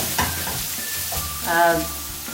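Red onions sizzling and being stirred in a frying pan for samosa filling, a steady broadband hiss with a few scraping stirs and a brief louder swell near the end, no voices.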